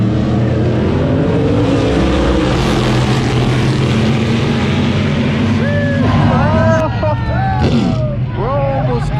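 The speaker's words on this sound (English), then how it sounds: "these cars about to pass by" Cars roaring past at a race track during a car meet and track day, a loud continuous engine drone with a rising pass near the end, partly under excited voices talking and shouting.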